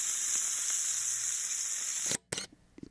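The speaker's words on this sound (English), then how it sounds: "I'm frying a flank steak in my cast iron pan" Steady loud sizzling of flank steak frying in a hot cast iron pan, continuous hiss that cuts off abruptly near the end, followed by a few faint clatters.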